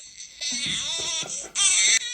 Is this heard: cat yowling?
no